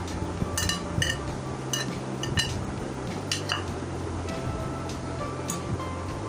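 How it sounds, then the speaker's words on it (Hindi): Salt, crushed red chili and cumin are stirred together in a bowl for a sandwich filling, giving repeated clinks and scrapes of a spoon against the dish over a steady background hum. "इसको अच्छी तरह से पहले मिक्स कर लेंगे। ये मिक्स हो गया।"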